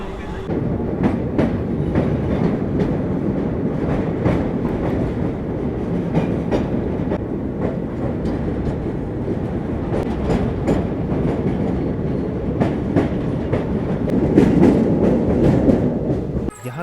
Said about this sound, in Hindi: 9:20 में हमारी ट्रेन निकल चुकी है लखनऊ चारबाग रेलवे स्टेशन से।